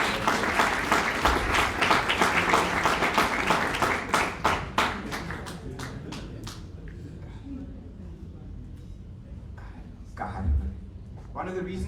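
Audience applause for the defending champion at a Two Oceans Marathon 2025 elite athlete press conference, dense clapping that thins and fades after about five seconds into scattered claps and room noise.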